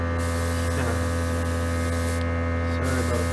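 An air compressor feeding an airbrush hums steadily, a constant low electrical drone that stays close and even throughout with no other sounds.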